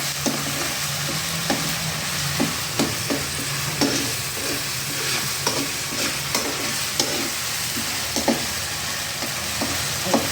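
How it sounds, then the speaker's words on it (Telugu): Masala fries in a pan for prawn curry with a constant close sizzle, punctuated by regular clacks of a spoon stirring and scraping, and no voices. "మసాలా వేగాలి"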